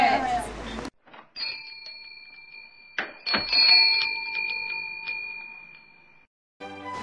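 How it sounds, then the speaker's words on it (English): Bell sound effect in an audiobook of Hans Christian Andersen's The Bell: a few bright metallic dings ringing out and decaying, briefly following spoken narration. "That surely can be the bell."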